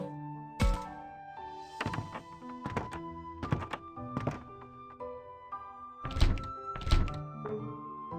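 A door in the video game Digimon Survive thuds repeatedly: a series of heavy, dull knocks spread irregularly over several seconds against sustained game music.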